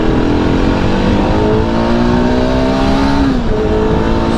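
A Yezdi Adventure motorcycle pulls hard through its gears, the loud close engine note climbing in pitch, dropping briefly at a shift, then rising again.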